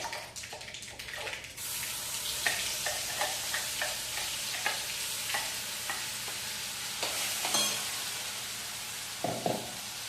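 Ground chutney poured into hot oil tempered with crackled mustard seeds makes a sudden loud hissing sizzle. Steady spattering follows, broken by repeated scraping strokes of stirring, close up with no talk.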